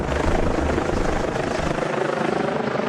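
Military helicopter flying overhead at night, lighting up the area during a police chase near a border post; a steady, loud rotor thrum and engine roar fills the whole stretch with no pauses.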